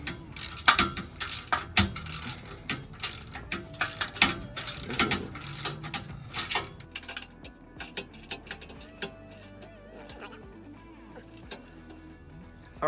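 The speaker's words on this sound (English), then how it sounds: "after we've already torqued those down to 70 foot-pounds of torque" Torque wrench ratcheting as it tightens the bolts on an Xtreme Trail front bumper for a truck, giving rapid, loud clicking bursts that go on for several seconds and then thin out to sparser clicks.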